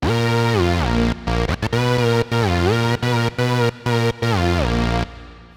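A thick Korg KingKORG synth, a second timbre layered in via the mod wheel, plays a melody of held notes with brief breaks, rich and bright, ending in a short fading tail.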